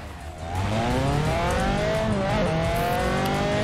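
An Alfa Romeo sports car engine in the racing game Forza Horizon 4 revs up and climbs steadily through its gears, a loud continuous roar with rising pitch and brief shifts.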